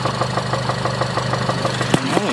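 A 2006 Honda Civic Si with 122k miles idles with rod knock: a steady engine hum carries fast, evenly spaced knocks close by, with a brief louder sound near the end.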